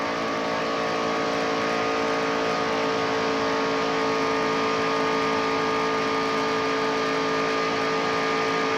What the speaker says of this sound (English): Listen to the motor in this thing.